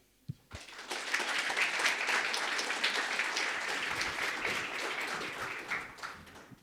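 A design-talk audience breaks into dense, sustained applause for the speaker Lena Kul, swelling quickly after a couple of sharp early claps, holding steady, then thinning out near the end.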